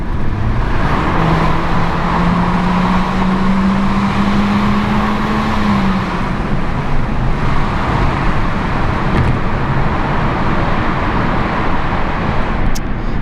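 A 2017 Honda Civic drives through road traffic, with a steady, moderately loud engine and road drone throughout and one clear rising tone near the start.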